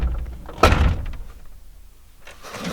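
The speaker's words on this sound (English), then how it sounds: "listen to the door shutting noise." A single solid thunk of a car door shutting nearby, followed by a muffled, quiet stretch and faint rustling.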